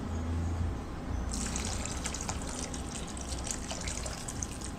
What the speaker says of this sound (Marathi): थोडंसं मी ह्यामध्ये घालणार आहे पाणी